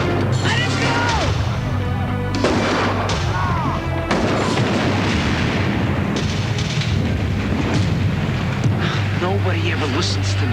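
Loud, sustained gunfire in a video game cutscene, dense bursts of shots and booms filling the scene, with shouting voices over the top.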